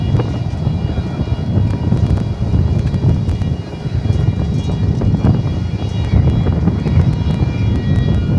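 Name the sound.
DHL cargo airplane at DFW Airport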